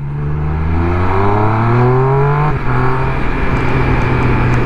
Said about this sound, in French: la sonorité, elle est incroyable, hein. C'est le pot d'origine, les gars, mais le pot d'origine, wow, t'as des petits retours quand tu passes le shifter